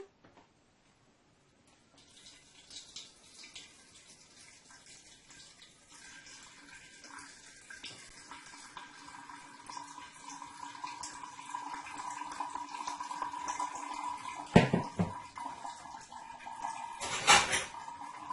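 A blended mixture of husk and milk is strained and pressed in a kitchen, giving soft liquid trickling that builds gradually, with sharp clinks of a utensil against a container near the end.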